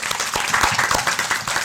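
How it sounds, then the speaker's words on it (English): Brief, dense clapping from an audience at a gathering, a close, even patter of hands with a faint voice underneath. "Give her a round of applause"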